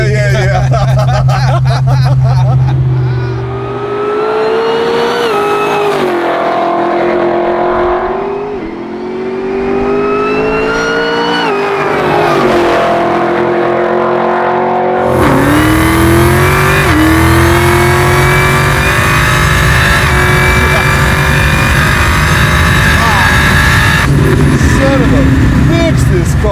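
A supercharged 1969 Chevelle engine revs repeatedly in a garage, loud blower whine rising and falling over a deep rumble, with people talking and cheering throughout.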